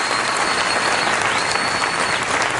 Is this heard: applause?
yes